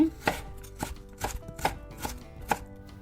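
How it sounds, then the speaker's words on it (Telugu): A knife chops coriander finely on a board in a series of sharp, distinct strikes at an irregular, unhurried pace, close and clear with no talking. "కొత్తిమీర సన్నగా కట్ చేసి పక్కన పెట్టుకోండి."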